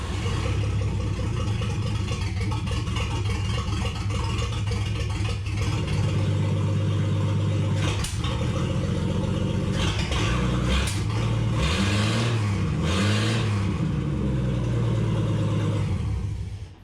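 Rebuilt car engine on a rough-running restoration build starting up and revving, a loud steady mechanical rumble with rising and falling rev swells near the end, running alone without talk.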